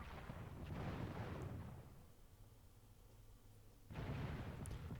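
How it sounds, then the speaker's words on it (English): Artillery barrages in the strategy game Supreme Commander 2 rumble in two bursts of booming fire, fading to a quieter stretch before swelling again; no one talks. "That is so much artillery."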